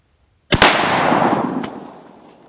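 A single loud, sharp gunshot from a Marlin 1895 lever-action rifle fired outdoors cracks out of silence, followed by a long rolling echo that fades over about two seconds.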